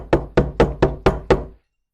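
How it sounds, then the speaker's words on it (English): Six firm, evenly spaced knocks in quick succession, close and dull, as a mold filled with rice is banged against a hard surface to settle it, then silence. "going to give it a little tap. So excuse the banging."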